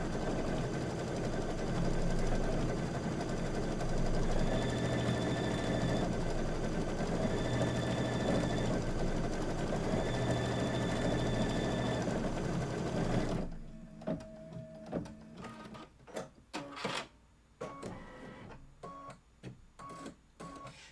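An embroidery sewing machine stitches a Kimberbell table topper in a steady, loud mechanical hum that runs for over ten seconds. It then stops, giving way to scattered clicks and handling noises.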